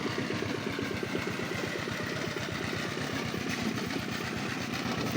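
Tractor engine running on a farm, a steady close chugging idle with a fast regular pulse throughout and no talk.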